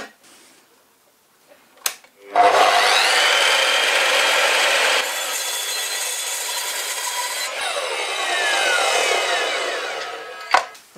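A power saw cuts through a piece of walnut in one long steady pass of about eight seconds, the tone shifting partway through, preceded by a faint click and ending with a sharp knock, close and loud.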